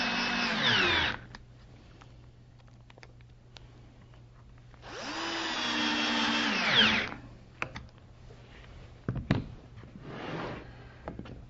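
A power drill drives #8 by 1.25-inch screws into wooden fence pieces for a router dado jig, whirring in two distinct bursts with a fainter third near the end, separated by quiet handling noises.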